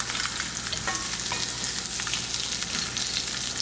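Salmon searing in a heated pan with oil, a continuous close sizzle and crackle of frying with small spits and pops throughout, no voices.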